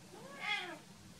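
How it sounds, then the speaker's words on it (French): One drawn-out, rising and falling meow from a nearby house cat, harsh and fairly strong, sounding alone against a quiet room. "Odin a un miaulement très très désagréable, hein Odin? Et puis il miaule fort"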